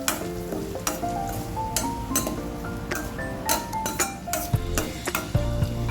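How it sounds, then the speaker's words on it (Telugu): Chopped green chilies and onion with bay leaves fry in a pan while being mixed, giving a steady sizzle under intermittent scraping and clinking of a spoon against metal, close and loud with no voices. "పచ్చిమిర్చి అండ్ ఉల్లిపాయ కట్ చేసినవి బాగా వేసి మిక్స్ చేసుకోవాలి."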